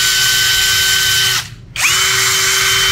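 A Hoka cordless drill runs with a loud, steady whine, briefly stops and falls silent, then spins back up to the same high pitch, with no talking.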